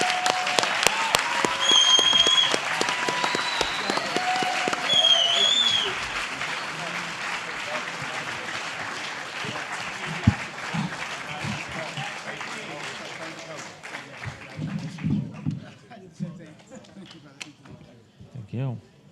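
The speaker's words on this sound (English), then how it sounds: "please welcome them in with applause and shake their hand" A crowd applauds loudly for several seconds, the clapping gradually thinning and fading away, with a few whistles and scattered voices near the end.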